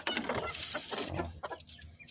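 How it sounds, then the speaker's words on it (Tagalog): A hen near laying clucks softly in a brooding setup, a few low, throaty calls close by and fairly quiet, with no one talking over them. "Pero malapit na mangitlog itong kusya mo natin dito."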